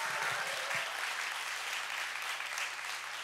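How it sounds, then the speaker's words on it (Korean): A studio audience at a Korean talk show gives a steady round of applause. The clapping is moderately distant and even, with a brief low voice near the start. "우리 4시 33분 우리 권준모 의장께도 여러분 박수 한번 좀 부탁드리겠습니다"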